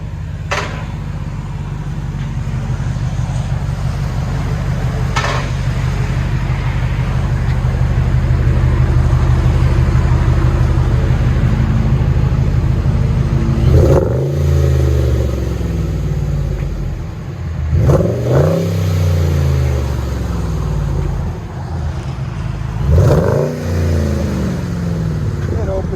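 A deep, rumbling supercharged 5.7L HEMI V8 in a RAM 1500 truck with Magnaflow glass pack exhaust idles loudly, then revs sharply three times, each rev rising and falling back to a throaty idle.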